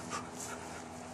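A dog panting softly just before a race against a person, a brief run of quick breaths, faint and close, over a steady background hiss.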